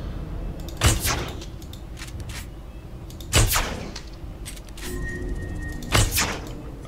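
Gunfire from the video game Jurassic World Evolution: three sharp, isolated shots land a few seconds apart over a steady low background hum, with no talking.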